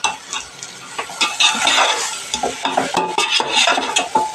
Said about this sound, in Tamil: சிக்கன் நல்லா வதங்கணும்